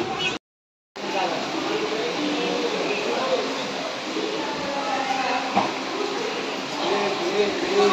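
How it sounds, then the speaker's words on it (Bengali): A train at Sealdah station, a continuous rumbling, hissing rail and platform din heard from close by, steady apart from a brief gap near the start, with no clear speech. "আর এই ট্রেন ধরে চলে যাবে কল্যাণী সীমান্ত।"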